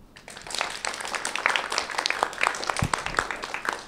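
An audience applauds the evening's host at a Nintendo game night prize ceremony, with steady, dense clapping from a crowd that runs at an even level for several seconds.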